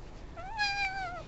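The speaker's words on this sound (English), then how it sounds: "Introducing the mini mean kitty." A single clear cat meow, rising then falling, close and moderately loud against a quiet background.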